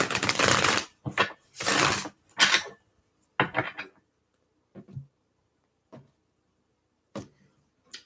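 Tarot cards shuffled by hand in irregular bursts, a long riffling rush followed by shorter flutters and scattered single taps and slaps, close and fairly loud with quiet gaps between them.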